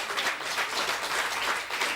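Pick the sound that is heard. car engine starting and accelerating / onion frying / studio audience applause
studio audience applause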